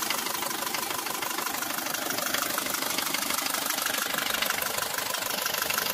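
A 1972 Mercedes W115 diesel engine runs steadily at idle, with a dense, even clatter and rough knocking pulse, close and constant throughout with no voices.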